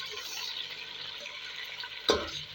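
Chicken browning in a pan for chickpea pulao gives a steady soft sizzle and frying crackle, with a brief louder clink or stir near the end, no talk over it.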